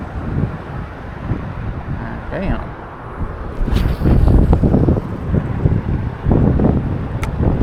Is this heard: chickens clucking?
no